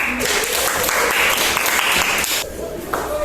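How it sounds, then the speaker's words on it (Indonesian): A classroom of students claps for a group presentation, a dense burst of applause lasting about two and a half seconds before tapering off, with a voice heard faintly over it. "tepuk tangan untuk kelompok 3"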